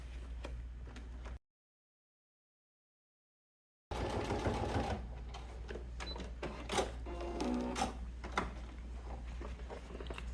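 A sewing machine stitches a seam on a fabric desk pencil holder, running in a steady mechanical hum with clattering needle patter, stopping for a couple of seconds of silence, then resuming.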